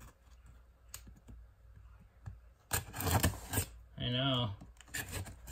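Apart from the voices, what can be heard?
X-Acto knife cutting packing tape on NES box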